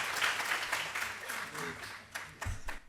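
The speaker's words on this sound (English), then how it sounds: "Round of applause" An academic conference audience claps briefly after a dean's introduction, a short burst of applause that thins out, with a voice faintly audible underneath.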